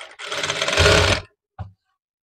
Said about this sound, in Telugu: నేను ఇట్లా స్టిచ్ చేసేస్తాను.